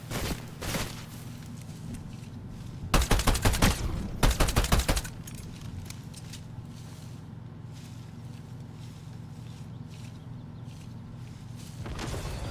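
Rapid Ranger pistol shots in a video game, a tight burst of cracks followed by a second burst, loud against a steady background rumble of engine-like noise and ambience.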